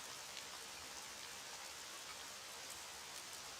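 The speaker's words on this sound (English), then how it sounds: "The rain was pouring down." Steady rain pouring down in a visual novel game, a constant soft hiss of falling drops, faint and unbroken throughout with no voices.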